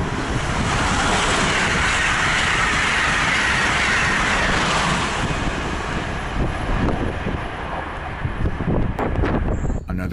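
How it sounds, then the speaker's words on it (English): A southbound Amtrak Acela high-speed train rushes past close by along the Delaware River, a loud, steady roar with clickety-clack from the wheels that fades over the last seconds; no voices. "The southbound Acela heads for Washington, D.C."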